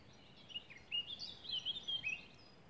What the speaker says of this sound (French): Entends le chant des oiseaux.